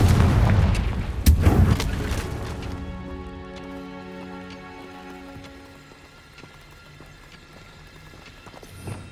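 Confringo explosion spell in the video game Hogwarts Legacy, a loud booming blast with crackling debris that fades into a long ringing decay and scattered small impacts.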